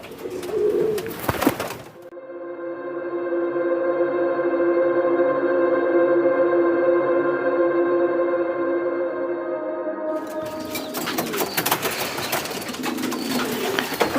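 A pigeon calls on its own for roughly eight seconds with a steady, sustained cooing, set between stretches of louder, noisier background sound at the start and end.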